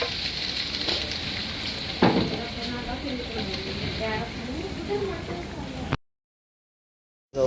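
Masala for an egg masala fries in a pan with a steady, dense sizzle and occasional stirring scrapes for about six seconds while someone talks over it, then the sound cuts to silence before briefly returning.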